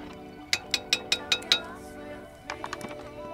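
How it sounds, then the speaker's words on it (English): Utensil scraping and clinking against a camp pan while stirring chilli con carne with spices, a quick run of six metallic taps followed by softer clinks, close up and fairly quiet. "Stir it a bit, just get any spice mix and onion and garlic at the bottom of the pan."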